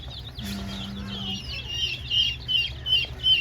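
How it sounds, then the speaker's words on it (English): A sapphire olive egger hen clucking nearby in a backyard flock, several short repeated clucks and chatter growing louder toward the end, with a brief low hum early on. "sapphire olive egger, I think is what she was"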